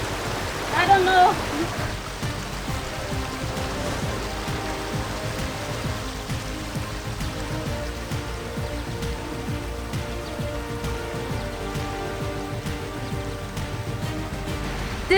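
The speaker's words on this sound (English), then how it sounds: "It's starting to rain." Steady rain falls throughout at a waterfall in Bali, a continuous soft hiss of drops on surfaces, fairly close, with a brief louder patter early on.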